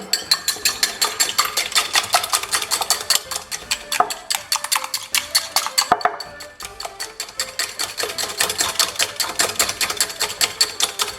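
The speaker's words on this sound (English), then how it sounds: "3 eggs. Scramble." Three eggs being scrambled in a fast, very hot wok for chicken fried rice, a dense run of quick metallic scraping and tapping clicks, steady and close throughout.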